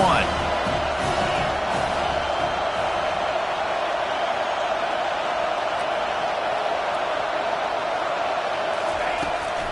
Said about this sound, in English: this crowd really affecting the football